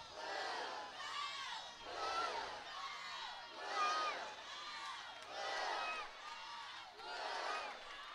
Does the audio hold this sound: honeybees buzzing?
no